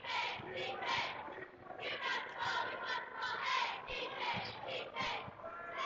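A high school basketball crowd at a Brownsburg versus Perry Meridian game chants a rhythmic cheer in unison, loud repeated shouted bursts from the stands echoing through a gym, with some scattered noise between phrases.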